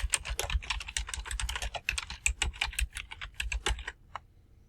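Rapid typing on a computer keyboard, a close, dense burst of key clicks for about four seconds that thins out to a few final taps.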